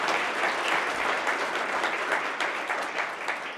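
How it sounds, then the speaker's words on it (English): An audience at a public policy talk event in Reno applauds the sponsors, steady dense clapping from a sizable crowd throughout, with no voices over it. "So let's have a round of applause for the sponsors."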